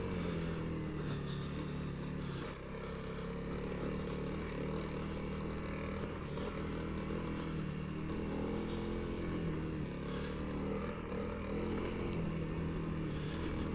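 A Honda CRF300L motorcycle rides a trail at an average, unhurried pace, its engine a steady continuous drone close to the microphone throughout.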